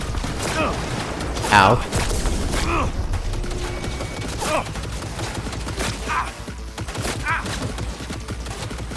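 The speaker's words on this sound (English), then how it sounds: "Oh, freaking turrets." Bursts of automated turret gunfire and mechanical clanks in Cyberpunk 2077 rattle in uneven volleys over a constant background rumble, with a man's brief pained exclamation.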